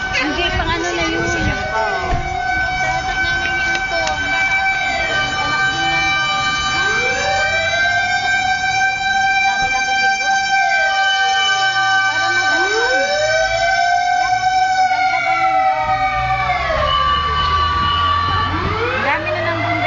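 Several fire truck sirens wailing in Quezon City, rising and falling in overlapping sweeps with a steady tone, loud and continuous with traffic rumble and people talking underneath.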